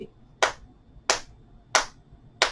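Four sharp, evenly spaced hand claps, close and clear, from a single person seated during a beginner chair yoga session at home, with quiet pauses between each clap.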